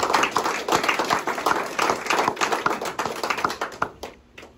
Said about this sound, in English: I really want to give them a shout out and a round of applause